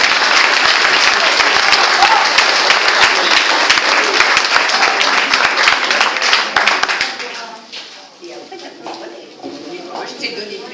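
An audience at a French seniors' association gathering in Saint André applauds loudly for about seven seconds, the clapping then thinning out as a voice begins speaking.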